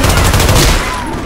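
Rapid burst of gunfire in the City 17: Aftermath video game, loud and dense fusillade that tapers slightly toward the end.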